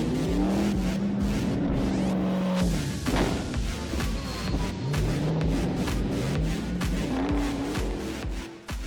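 Car speeding away during a police chase through an abandoned parking lot, a loud close engine roar rising and falling through repeated revs and gear changes, with thumps and rattles mixed in.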